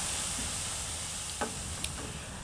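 Onions fry quietly in a pan for a prawn and chicken pathia curry, a faint steady sizzle with a couple of brief stirring clicks near the end.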